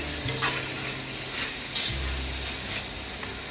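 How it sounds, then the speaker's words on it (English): Bean sprouts sizzle and crackle in a hot pan while being stir-fried, with occasional scraping and tossing bursts over a constant frying hiss. "Now while this is stir frying"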